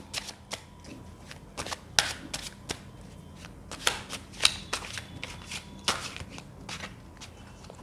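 A deck of tarot cards being shuffled and drawn by hand, with a steady run of sharp, papery snaps and flutters close by, irregular in rhythm, and no talking.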